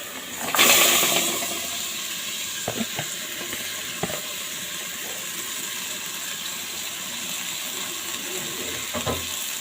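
Taro stolons, eggplant and potato drop into masala frying in a pan for a small rohu fish curry, setting off a loud sizzling rush that settles into a steady crackle with occasional stirring knocks.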